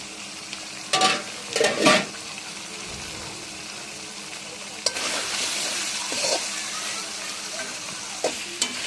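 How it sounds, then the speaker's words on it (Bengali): A spoon stirs and scrapes through mutton curry (khashir kala bhuna) frying in a pot, with several close, loud stirring strokes over a steady sizzle. "বারবার নাড়তে হবে, না হলে নিচে লেগে যেতে পারে।"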